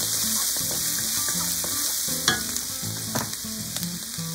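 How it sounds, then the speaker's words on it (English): Chili sizzles in hot cooking oil in a pan, a dense, even frying hiss with crackles and a couple of sharper pops, steady and close, no voices. "We start from cooking oil and chili"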